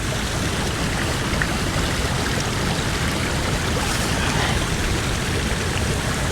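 Waterfall pouring steadily, a dense, constant broadband rush that fills the scene without pause, close and even in loudness throughout.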